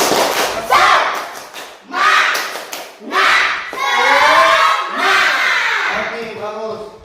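A sixth-grade class does a rhythmic group clap chant: bursts of claps and thumps alternate with children shouting the chant together in loud, patterned phrases, near and lively.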